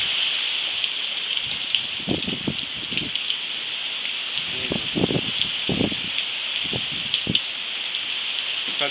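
Heavy rain pours steadily in Sogod, Leyte during the rainy season, with strong gusting wind, a constant hiss broken by several louder low bursts as gusts hit.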